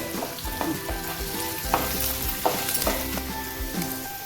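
Dried red chillies and curry leaves crackle and sizzle in hot oil in a pan for chena mezhukkupuratti, a busy close spatter with sharp pops and stirring scrapes throughout.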